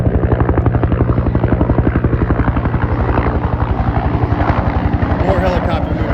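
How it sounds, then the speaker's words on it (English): Helicopters flying over Washington DC give a loud, steady rotor chop with fast, even blade thumps that hold close and strong throughout, with no talk over them. "More helicopter movement today, guys."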